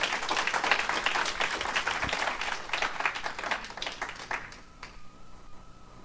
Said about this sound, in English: Give God another hand clap, please.